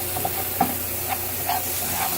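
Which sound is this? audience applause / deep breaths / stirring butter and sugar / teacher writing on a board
stirring butter and sugar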